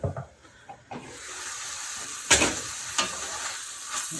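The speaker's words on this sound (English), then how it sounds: "Toss these peppers and onions around in there." Peppers and onions are tossed in a hot pan, giving a steady sizzle with a few scraping stirs and clatters, close and moderately loud.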